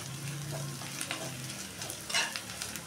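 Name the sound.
grated ginger frying in oil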